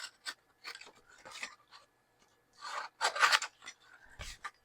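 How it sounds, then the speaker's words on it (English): Scissors trimming around a glued paper craft tag, heard as close, quiet snips and rasping cuts in irregular bursts separated by short silences. "I'm going to trim around it, because I already have a shape on my box."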